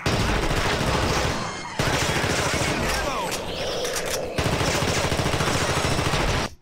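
Rifle fire in the video game The Thing, a rapid stream of close, loud shots that keeps going for several seconds with two short breaks.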